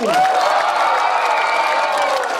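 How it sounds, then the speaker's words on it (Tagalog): A crowd at a religious crusade gathering claps loudly and shouts and cheers together in one brief, sustained burst. "Yung palakpak na may kasamang sigaw"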